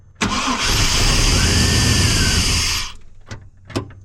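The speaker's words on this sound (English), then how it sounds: "I'm going to go hit the starter." A Chevrolet 1500 pickup under repair cranks on its starter for nearly three seconds in a loud, steady churning whir, then cuts off, leaving a few faint clicks and knocks.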